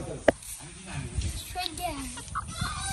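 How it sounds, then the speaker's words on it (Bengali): Native village hens, bought from a market, cluck softly nearby amid a short sharp knock, with people talking over them on a rainy day. "দেশি মুরগি নিয়ে আসলো"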